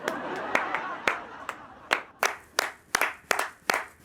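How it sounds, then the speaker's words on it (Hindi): A small group claps sparsely and unevenly in a comedy scene. Separate sharp hand claps come in loose bursts, then give way to a few distinct single claps. "तालियां।"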